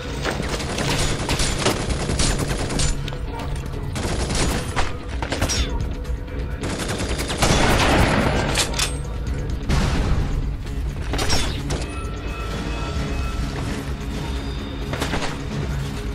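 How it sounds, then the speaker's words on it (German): Sniper and other gunfire in the video game Binary Domain: a dense, loud stretch of sharp cracks and metallic clatter, with rapid bursts and brief lulls, no talking heard. "Ein Scharfschütze! In Deckung!"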